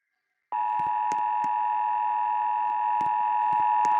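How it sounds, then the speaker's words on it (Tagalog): An alarm in the Roblox horror game It Lurks cuts in abruptly and holds as a loud, steady electronic tone, with faint clicks scattered through it. "parang may tumututok na alarm"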